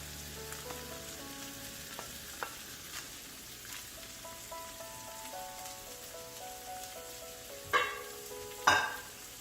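Corn kernels cut from eight cobs fry in a pan with a soft, faint sizzle and crackle, broken near the end by two sharper clinks of stirring.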